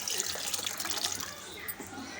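Water pours into a cooking pot with radish and green gram, a soft, steady splashing stream, fairly faint and brief.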